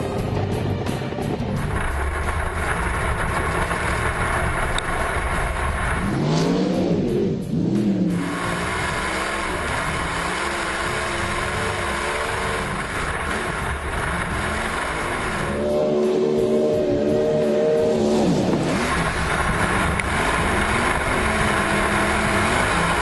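A car with a nearly 900 horsepower race engine accelerates in two loud bursts of rising engine note over continuous rumbling motor noise, with no speech.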